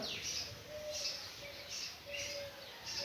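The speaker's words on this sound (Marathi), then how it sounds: "ही किती पक्षी उडू राहिलेली आहे. छोटे छोटे पक्षी, मोठे मोठे, छोटे छोटे पक्षी आहे." Repeated high chirps from small birds, in bursts about every half second, over a faint steady background hum.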